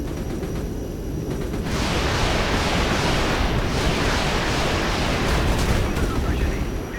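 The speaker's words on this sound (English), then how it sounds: "these rockets should hit pretty hard" Rocket artillery impacts land in the Regiments video game: after a quieter start, a sustained roaring wash of explosions and rumble swells loudly and continues, with a muffled voice briefly audible.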